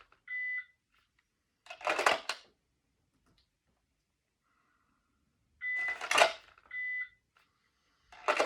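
A shot timer gives short, sharp electronic beeps during dry fire pistol practice: one beep near the start, then a close pair later. Loud rustling and clacking bursts of a holster draw sit between the beeps in an otherwise quiet room.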